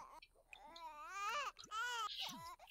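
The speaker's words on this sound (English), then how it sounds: "Why is the baby crying?" A baby wails in rising and falling cries in The Sims 4, close and clear, with short breaths between the sobs.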